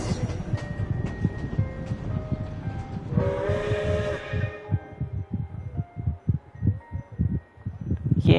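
A train in the Genshin Impact video game rumbles along, sounds a brief tonal whistle, then settles into a rhythmic run of heavy thumping pulses, loud and close with no talking.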